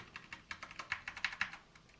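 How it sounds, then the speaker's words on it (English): Quick, quiet keystrokes on a computer keyboard, a rapid irregular burst of clicks that trails off near the end. "Bear with me with all the typing."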